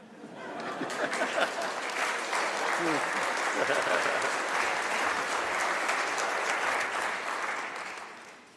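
A state of the State address audience applauds steadily, the clapping swelling and holding for several seconds before tapering off at the end, with no speech over it.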